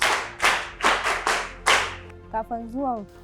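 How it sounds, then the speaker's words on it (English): Children in a classroom at a learning centre clap together in five sharp, evenly spaced bursts, close and loud. A brief voice follows at the end. "Good, clap for her."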